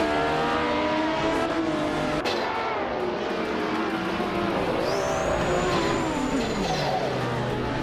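Race cars in a racing video game roar off the start at Misano, including a 1977 Lancia Stratos Turbo, with a continuous layered engine drone and rising revs, plus a brief high whine partway through, steady and loud throughout.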